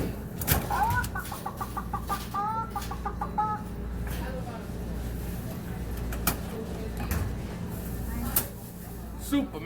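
A coin-operated chicken vending machine gives out a series of rapid mechanical clucks in quick bursts. Clattering thuds and people talking nearby accompany it.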